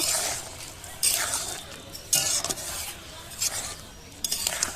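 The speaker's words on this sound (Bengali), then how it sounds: "দুবার নেড়ে চেড়ে নামিয়ে নেব" Duck meat curry being stirred in a pan, with a few short scraping bursts of spoon against metal over a soft background hiss, roughly once a second, close and moderately loud.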